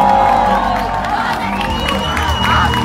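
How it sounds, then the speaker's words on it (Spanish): A concert crowd at a private show in Argentina applauding and cheering, loud and continuous, with whoops and shouts rising over the clapping. "Un fuerte aplauso para ellos, por favor."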